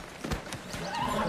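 A horse whinnies close by while its hooves clop a few times on the ground, all within a short burst.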